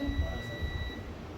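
A multimeter in continuity mode beeps while probing a mobile phone circuit board for shorts, giving a steady high tone for about a second over a low, muffled background.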